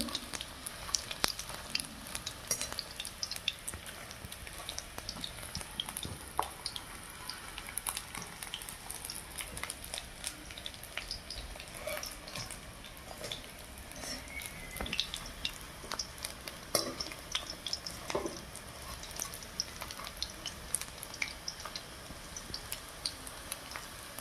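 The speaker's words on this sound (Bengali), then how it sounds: "এই যে দেখুন লাল লাল ভাজা ভাজা হচ্ছে, এই পাশ ওপাশ ঘুরিয়ে নিতে হবে।" Fish pitha cakes fry in oil, giving a soft continuous crackling sizzle with scattered pops. The sizzle is faint and steady throughout, with no voices.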